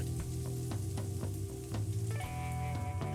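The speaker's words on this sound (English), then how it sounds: "Okay, let's get the shrimp in." Shrimp for Louisiana Cajun shrimp go into a hot pan, giving a steady close sizzle under a low, tonal background hum, with light clicks and tosses spaced through it.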